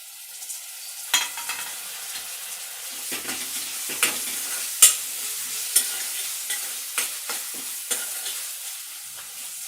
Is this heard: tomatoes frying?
yes